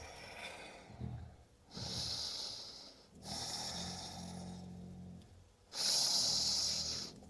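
A person inhales deeply through the nose during a hip-stretching routine. Several loud, airy breaths come close to the microphone, separated by short pauses.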